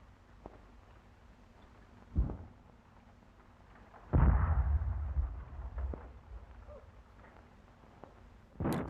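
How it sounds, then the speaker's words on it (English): Light field howitzers fire in a few distant, heavy booms with rumbling tails, scattered across the span over a quiet background. "Light field howitzers."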